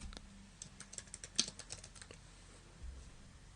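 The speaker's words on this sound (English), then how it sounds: "And then I will type in a category." Someone types a category name into a blog's admin page on a computer keyboard, producing quick, light key clicks in a short burst up close. The keys are faint and then fade into quiet.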